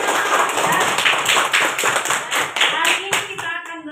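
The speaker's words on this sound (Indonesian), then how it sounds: "tepuk tangan lagi." Fifth-grade schoolchildren clap together in a classroom, a dense, loud, steady burst of many hands that thins out toward the end, with some voices mixed in.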